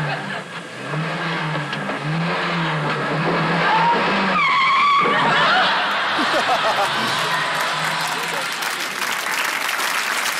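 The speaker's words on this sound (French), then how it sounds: "Vous sortez d'un dock, donc tu mets les gaz." A vehicle engine at full throttle pulls out of a dock on a TV set, roaring steadily and loud, with a sharp revving sweep midway, under laughter and talk.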